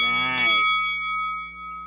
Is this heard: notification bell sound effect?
yes